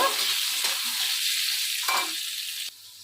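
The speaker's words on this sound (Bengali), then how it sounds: "নুন দিলাম হলুদ দিলাম দেওয়ার পর আলুটা ভালো করে ভেজে নেব" Potatoes seasoned with salt and turmeric frying in a pan, giving a steady, loud broadband sizzle that continues without a break and then drops to a quieter hiss near the end.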